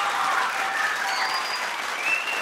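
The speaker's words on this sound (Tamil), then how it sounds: "கைத்தட்டுங்க" Audience applause fills a ceremony hall in a dense, steady roar of many hands clapping, loud and continuous from start to finish, with no speech standing out.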